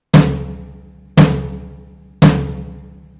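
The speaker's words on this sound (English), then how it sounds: "here's the sound of the drum with it." A drum with a quickly made homemade damper on its head, struck three times at even intervals, about one second apart. Each hit is loud and close, with a full low body and a ring that decays but still lingers before the next strike.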